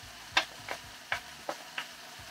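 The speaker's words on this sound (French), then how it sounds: "Et je vais mélanger et je vais laisser fondre." A utensil stirs frozen vegetables and honey in a pan, giving five sharp scraping clicks at an uneven pace over a soft background hiss.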